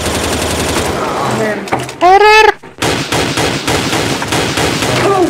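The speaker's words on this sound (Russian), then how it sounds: "Да как я не попал со скорострелки? 500 выстрелов вплотную выстрелил." Rapid automatic gunfire in Counter-Strike: Global Offensive, with dense, continuous shots that pause briefly mid-burst and then resume. Someone talks and growls over the shooting.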